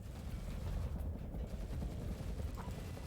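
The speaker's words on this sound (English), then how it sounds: "All right, our new choppers are here." Helicopters arriving in the war game Tom Clancy's EndWar, a steady low rotor thrum that stays faint and constant throughout, with no talk.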